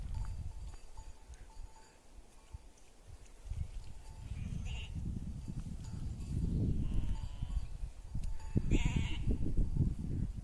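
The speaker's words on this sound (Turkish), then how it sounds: "koyunları göstermek istedim size" Sheep bleat in short repeated calls at a moderate distance over a low, rumbling outdoor background, with no talking.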